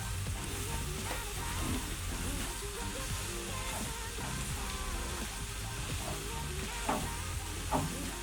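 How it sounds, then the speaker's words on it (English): Rosemary potatoes sizzle in a pan while being stirred, a soft continuous frying hiss broken by a few scraping strokes, with no one talking. "Give it a little bit of a stir."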